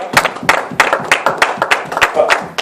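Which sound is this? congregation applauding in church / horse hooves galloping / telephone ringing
congregation applauding in church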